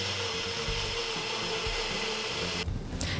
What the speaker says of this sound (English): we're going to put this in the NutriBullet